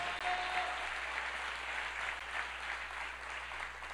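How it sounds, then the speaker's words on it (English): A church congregation applauds during a sermon, with steady, sustained clapping from a crowd that fills the whole stretch at an even level. "And you can applaud that as we go forward."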